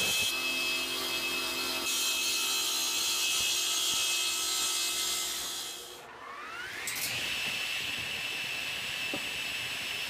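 A Jatoba board is resawn into quarter-inch strips for a segmented woodturning bowl, a loud, steady saw cut that dips briefly midway before the blade keeps grinding through the hardwood. No one speaks.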